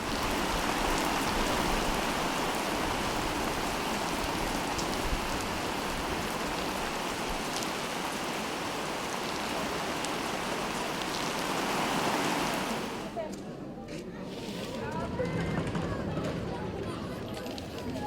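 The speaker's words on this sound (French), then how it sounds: "la pluie vient de gâcher cette soirée" Steady heavy rain pours down on an outdoor summer evening festival, a dense continuous hiss drumming on surfaces nearby, easing briefly toward the end before picking up again.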